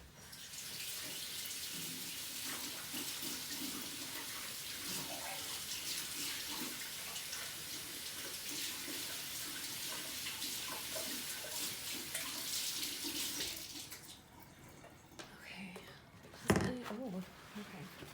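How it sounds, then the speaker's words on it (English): Water runs steadily from a tap while hands are washed, a close, continuous splashing that stops abruptly near the end, followed by a short knock. "I'm gonna wash my hands, let that sit for just a second"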